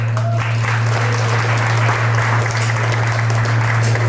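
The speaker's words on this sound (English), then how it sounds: "So give yourself a round of applause." Sustained audience applause at a business presentation event, loud and steady for the full stretch with no break, over a constant low electrical hum.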